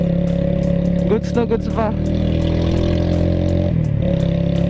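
A Loncin Terminator 200 single-cylinder motorcycle with dual exhaust idles and runs steadily and loudly close by, with someone talking briefly over the engine.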